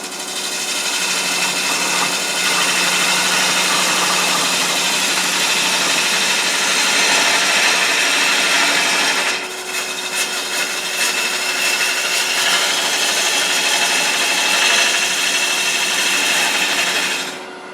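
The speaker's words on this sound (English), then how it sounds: "I'm going to take it down with this skew with a peeling cut, just a little bit at a time" A skew chisel takes a peeling cut on a wood spindle for a table lamp turning on a lathe, giving a steady, close, continuous shaving hiss and rumble that stays loud for the whole stretch with a brief dip midway.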